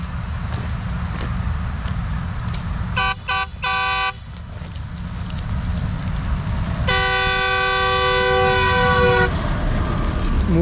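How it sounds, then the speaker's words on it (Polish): During a rapeseed harvest, a farm vehicle horn honks in two short bursts and then one long sustained blast, loud over a rumbling engine background. "Musiał zatrąbić."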